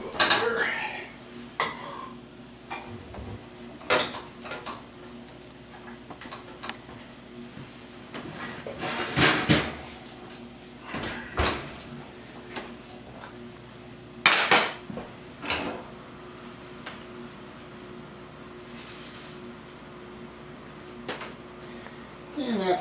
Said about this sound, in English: And while I'm plating here, I'll just plate two over here.